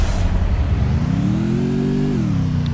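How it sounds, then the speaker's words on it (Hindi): A heavy bike engine in the Free Fire video game drones loudly and steadily, its pitch rising into a rev and then settling back down, with no voices over it. "अब फिर से मैंने हेवी बाइक ली"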